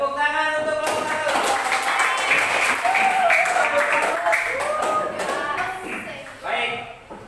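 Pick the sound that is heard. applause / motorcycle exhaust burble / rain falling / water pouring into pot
applause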